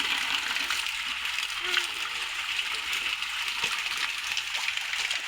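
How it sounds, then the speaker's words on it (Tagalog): Steady water pours and splatters from an improvised shower in the mountains, a continuous hissing stream at even loudness throughout, with no talk over it. "Improvised shower."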